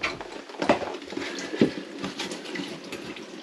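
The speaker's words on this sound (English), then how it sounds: "it's now running down into the sump pump and getting the heat system drained" Water draining from a home heating radiator through a hose toward a sump pump, an uneven gurgling trickle with spluttering bursts and patter, close by and moderately loud, with no talk.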